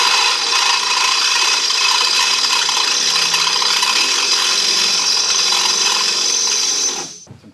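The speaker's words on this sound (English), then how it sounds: "now we'll drill this large one" A drill bores a large hole through metal for a Kemimoto grab bar on a Ranger, grinding loudly and steadily for about seven seconds before the motor winds down and stops.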